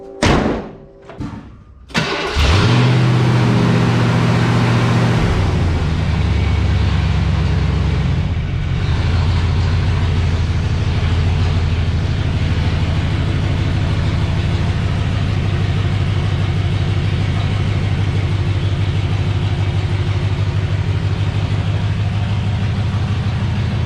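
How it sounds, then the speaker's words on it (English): A vintage Ford F flatbed truck, fresh from a brake booster and master cylinder replacement, thuds and starts, then drives steadily for over twenty seconds with a loud, continuous mid-range engine drone and no talking. "I think we're ready to take her for a test drive."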